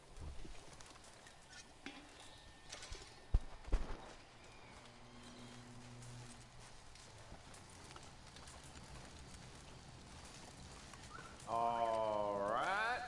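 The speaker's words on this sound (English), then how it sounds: "my horse is just right here" Horse hooves clip-clopping in the video game Red Dead Redemption 2, a steady, fairly quiet patter under a soft outdoor ambience with birds, then a louder rising tonal sound near the end.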